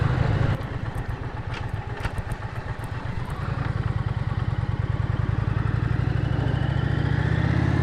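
A motorcycle with a cable-operated clutch rides through pine forest, its engine chugging steadily up close, with a few sharp clatters early on before the pulsing note smooths and grows louder.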